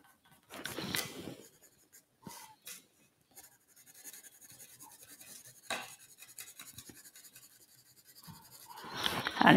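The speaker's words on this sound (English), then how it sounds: "I'll rub out some of these pencil lines as I go" Pencil lines being rubbed out on drawing paper with an eraser, giving soft scratchy rubbing in short intermittent bursts, with quiet gaps between strokes and a louder burst at the end.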